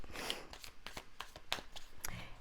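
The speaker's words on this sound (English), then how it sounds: "So bear with me as I shuffle." Cards being shuffled for a twin flame reading give a steady run of soft, papery riffling and snapping bursts, close but fairly quiet, with no talking.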